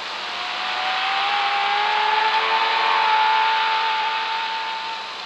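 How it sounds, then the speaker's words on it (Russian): A car drives past, its engine hum and tire roar swelling as it approaches, then easing off as it moves away. "И услышал звук машины, откуда он доносился."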